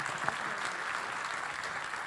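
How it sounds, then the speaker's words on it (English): Audience applause at a cybersecurity conference session, a steady wash of clapping heard faint and distant throughout, with no voices over it. "give them a round of applause to kick things off."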